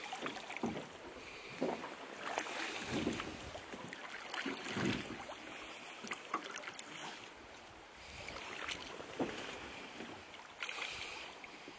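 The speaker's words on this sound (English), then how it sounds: "with this oar over here, I'm just helping pull myself backwards to slow it down just a little bit" Oars scull a rowboat drifting down a river, soft repeated dips and splashes of the blades against gentle water and light wind, faint and outdoors with no talk.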